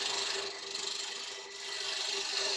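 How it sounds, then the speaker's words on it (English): A spindle gouge takes a pull cut across the top face of a wooden bowl spinning on a lathe, giving a steady, continuous rasping hiss under a constant motor hum, close and fairly loud with no talking. "I can continue with my spindle gouge"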